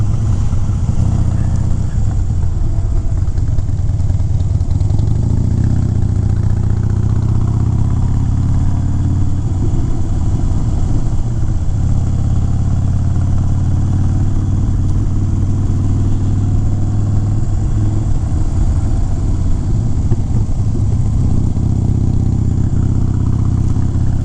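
A motorcycle engine drones steadily while riding damp, twisty roads, with the throttle eased back. The close, continuous hum rises and falls gently with the curves, and there is little talk.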